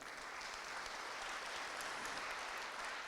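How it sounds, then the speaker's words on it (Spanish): An audience at a conference event on social debt and poverty applauds to welcome speaker Agustín Salvia, an even, sustained wash of clapping heard from a moderate distance throughout. "Recibimos con este aplauso a Agustín Salvia."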